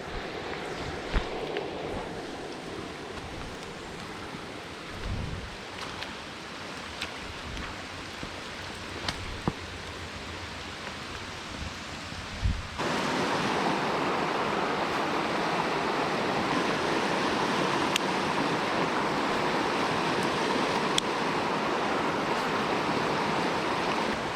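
Fast water rushing through a flooded rocky creek after heavy rain, a steady broadband roar that grows louder and denser partway through, with a few faint knocks earlier on.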